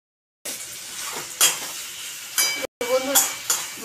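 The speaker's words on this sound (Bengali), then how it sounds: "এটা একটু 2 থেকে 3 মিনিট আমি নেড়ে চেড়ে নেব।" Potatoes and pond-fish curry stirred in a hot wok, with a soft sizzle of frying under several clinks and scrapes of a spoon against the metal, close and moderately loud, with a short break midway.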